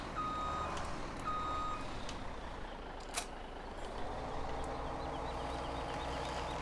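Repeated reversing beeps from a tractor pulling a flatbed trailer in a farming simulator game, steady evenly spaced tones over a continuous low engine rumble, with no talk.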